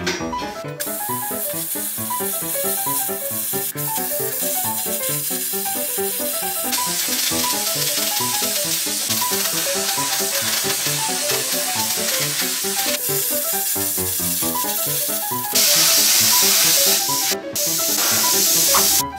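A plasma cutter slicing 4.5mm steel slats for a welding water table gives a steady, loud hissing spray with crackling sizzle, running continuously and intensifying near the end, with no talking.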